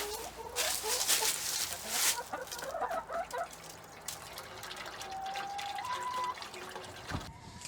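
Water poured into the top of a PVC pipe watering system for a chicken coop, a soft liquid fill heard under clucking chickens nearby, ending with a faint knock.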